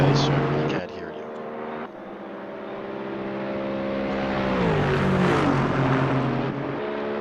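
GT3 race car engines roar around Road Atlanta in a racing game: a loud, continuous drone whose pitch climbs and dips as the cars accelerate and shift, with brief cuts where the tone drops.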